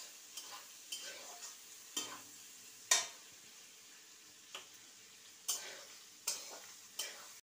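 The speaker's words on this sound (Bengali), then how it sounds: "পেঁয়াজ আর এই রসুনটা একটু লাল লাল করে ভেজে নেব" Onion and crushed garlic frying in a pan, a soft continuous sizzle punctuated by sharp scraping strokes of a spatula every second or so, close and otherwise quiet.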